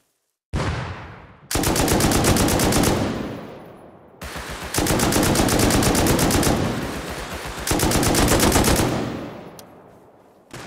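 Long bursts of automatic rifle fire in the survival game Rust, three sustained loud close volleys separated by brief pauses, with a faint voice underneath.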